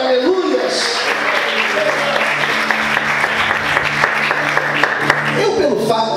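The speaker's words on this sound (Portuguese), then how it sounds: "Você pode dar glória a Deus e aplaudir o Senhor, aleluias." Church congregation clapping in praise during a Portuguese-language sermon, dense sustained applause mixed with crowd noise and scattered voices or singing in the room.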